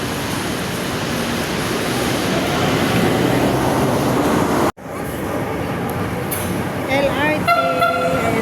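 A loud, steady rumble of a light rail train running on rails, briefly cut off, followed by screeching wheels and a short horn toot.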